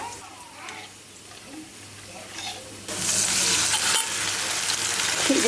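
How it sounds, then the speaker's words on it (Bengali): Chopped onion and green chili hit bubbling oil, a soft sizzle that jumps to a loud, bright hiss partway through and keeps crackling near the mic to the end. "পেঁয়াজ কাঁচামরিচ সেই তেলে দিয়ে দিলাম"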